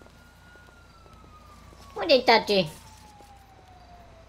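In the GTA 5 game, a fire engine siren sounds as one long, steady wail that slowly drops in pitch. Brief speech breaks in over it partway through.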